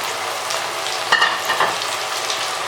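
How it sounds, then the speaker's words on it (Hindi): Chana daal deep-frying in hot oil for crispy nimko gives a steady, dense sizzle, broken by a couple of brief stirring clinks near the middle; no voices. "इसको हिलाते हुए पका लेंगे, फ्राई कर लेंगे अच्छे तरीके से"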